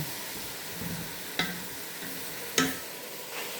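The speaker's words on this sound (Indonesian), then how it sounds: "Sambil goreng bawang merah ya sahabat-sahabat" Shallots frying in a pan, with a steady background sizzle and two sharp scraping stirs a second apart, fairly close and clear with no talking.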